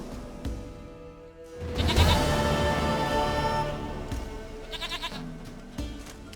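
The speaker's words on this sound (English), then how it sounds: "Goat of mine, dearest, sweetest goat." Goat bleating in The Witcher 3 game world, several quavering, wavering bleats rising over a background of ambient game music, fairly loud and close.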